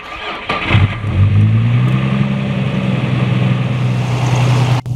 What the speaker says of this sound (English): Okay, so the car started.